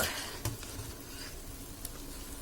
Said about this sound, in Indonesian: saya akan aduk